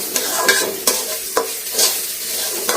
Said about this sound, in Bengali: এখন এটাকে ভালোভাবে নেড়ে চেড়ে নেবো, আদা রসুনটাকে সেটা ভালোভাবে মিক্স করে নেবো।